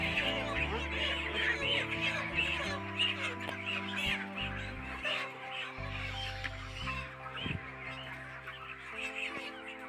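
Village chickens cluck and squawk in agitation while being caught by hand before sale, a busy overlapping chorus of close fowl calls with scuffling underneath.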